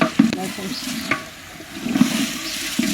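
Polao rice fries in oil while a large traditional paddle stirs it, with sizzling under several distinct scraping strokes roughly a second apart, close and fairly loud.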